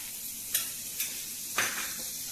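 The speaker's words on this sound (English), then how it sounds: "So we have a pan which is very hot over here. We add a generous amount of butter." Butter sizzles in a very hot pan, a steady close hiss punctuated by three brief scraping strokes of a utensil across the pan, with no talking.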